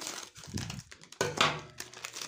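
Plastic packaging of a frozen Superfresh pizza toast being torn open and crinkled, with close, quiet rustling and crackling in short irregular bursts.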